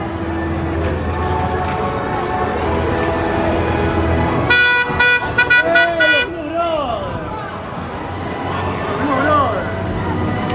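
A Blues Brothers car rolls up a crowded road at Universal Florida, honking a quick series of toots over street noise, with people talking throughout.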